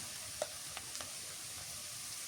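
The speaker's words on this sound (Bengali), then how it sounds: "আদা বাটা দিয়ে দিলেন" Ginger paste sizzles in a frying pan for a village-style broiler chicken curry: a soft, steady frying hiss with a few sharp spatter ticks, quiet and close, with no talking.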